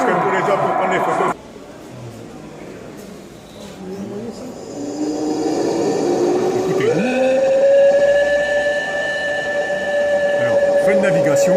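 A steam whistle and hiss from a model of the French aircraft carrier Foch, rising into a sustained tonal whistle that holds for several seconds over a broad hiss, with a voice speaking near the start.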